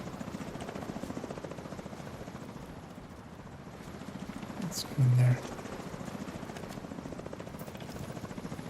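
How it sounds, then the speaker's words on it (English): Helicopter in The Division video game droning steadily overhead throughout, a continuous rotor buzz with a brief louder bump midway, while someone speaks over it. "And one more chopper."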